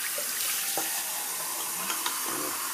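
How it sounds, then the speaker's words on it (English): Water is dumped out of a shaving scuttle into a sink, a steady hissing splash with a few small knocks and drips, close and fairly loud. "Dump the water out of the scuttle."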